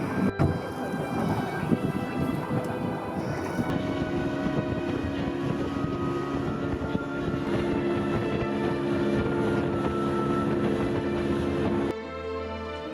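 A small local panga boat in Baja: a steady engine drone runs throughout with a rushing, churning wash over it, the motor tone shifting partway through before cutting back near the end.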